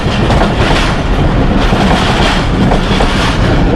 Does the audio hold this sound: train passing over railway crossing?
yes